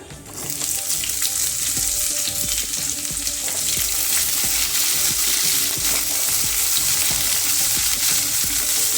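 Sliced onions fry with potatoes and capsicum (shimla mirch) in a pan, giving a steady close sizzle with frequent stirring clatter and spatula knocks throughout, no voices.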